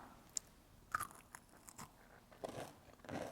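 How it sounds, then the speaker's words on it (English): Several sharp crunchy bites into homemade hazelnut bark, close and quiet, with brief chewing crackles between bites and no talking. "Hear that crunch?"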